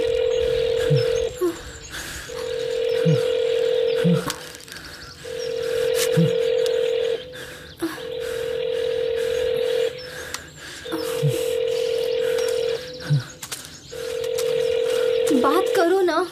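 A telephone found out in a forest gives a steady dial tone in repeated bursts, with short dialing beeps between them and a voice speaking softly in places.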